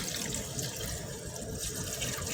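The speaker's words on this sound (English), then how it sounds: "now we're putting the broth in" Broth poured into a pot for sauerkraut soup, a steady close splashing, running-liquid sound that continues unbroken for the whole stretch with no talking.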